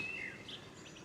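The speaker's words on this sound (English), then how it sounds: "hear the birds in the trees?" Birds singing in trees along a countryside cycling track, a few thin high chirps and whistles near the start and middle, faint over a soft outdoor background.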